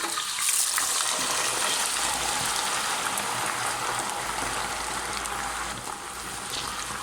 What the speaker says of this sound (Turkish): Kalan diğer patatesleri kızartıyorum.